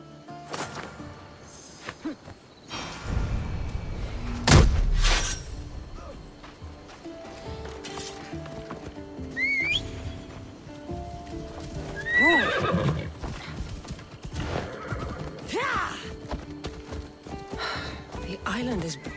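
Horses from Assassin's Creed Odyssey gallop with steady clip-clop hoofbeats while being ridden, and neighs and whinnies break in at intervals. Voices talk over the riding throughout.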